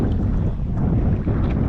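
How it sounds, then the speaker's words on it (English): Gusting wind buffets the microphone on open saltwater beside a fishing kayak, a steady loud rumble that carries through the whole short stretch. "the wind started to pick up here a little bit"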